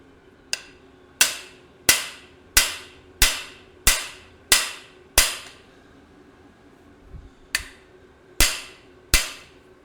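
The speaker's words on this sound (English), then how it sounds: "Now let's whoop on it with a hammer." Hammer blows drive a bearing into place on a 1972 Chevrolet Suburban, guided by a small alignment cone: about eleven sharp, loud metallic strikes in a steady rhythm, a pause after the eighth, then three more, close up with no talk.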